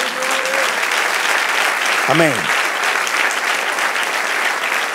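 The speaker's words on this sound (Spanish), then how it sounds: "Sí, aplaude, dé el aplauso al Señor" A church congregation claps steadily in a loud, sustained wash of applause during a Spanish-language service, with a brief sung or spoken word from a voice rising over it.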